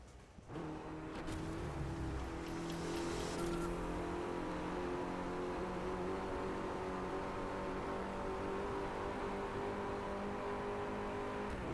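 Mercedes A45 engine in the Driveclub racing game, a steady sustained hum with stacked harmonic tones, rising briefly at the start and then holding at an even, moderately loud level for the rest of the drive.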